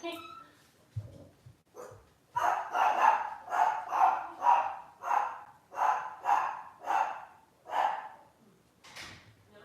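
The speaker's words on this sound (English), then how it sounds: "Barking at the wind." A dog barks repeatedly in a steady rhythm, about a dozen loud barks close by, after a few brief sounds at the start.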